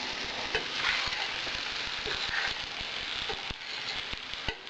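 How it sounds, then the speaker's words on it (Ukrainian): Beans sizzle in a pan with breadcrumbs and butter, a steady crackling fry broken by sharp clicks as they are stirred. "І довго не треба жарити на сковородці, тому що боби гарячі."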